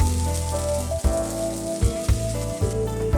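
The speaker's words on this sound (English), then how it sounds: "Once the frying pan is hot, spread the batter in a circle on the pan." A steady crackling sizzle of okonomiyaki batter frying in a hot pan, with occasional soft clunks and a faint background hum.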